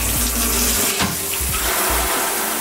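A shower running in a home bathroom gives a steady, close hiss of spraying water, with a few low knocks and thuds under it and no one talking.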